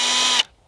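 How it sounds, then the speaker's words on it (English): A Milwaukee M18 hammer drill (2997-22 kit) spinning up, a loud steady high whine with a low tonal hum that runs for a moment, then cuts off abruptly into silence. "when you slowly turn this on, the sound of this right here just is like raw power, raw torque."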